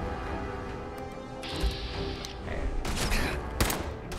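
Gunfire aimed at a robot in the video game Fallout 4, a few sharp bursts of shots cracking over a constant game background, loudest toward the end.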